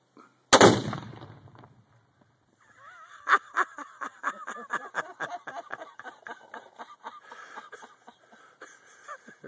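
A single sharp, loud blast as a rifle shot sets off a tannerite charge outdoors, followed after a pause by a stretch of rhythmic laughter.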